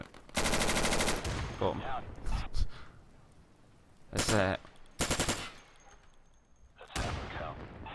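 Automatic gunfire in the tactical shooter game Insurgency: a long rattling burst, then shorter separate bursts and a final volley, loud and close, with a voice speaking briefly in between.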